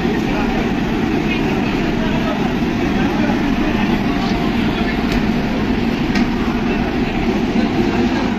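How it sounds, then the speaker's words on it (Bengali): A train runs through a railway station platform. A loud, steady rumble fills the whole stretch, with faint intermittent clicks and clanks of the carriages. "ওয়েট করছি ট্রেন আসতে"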